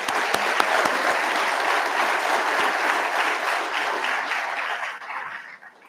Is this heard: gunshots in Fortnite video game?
no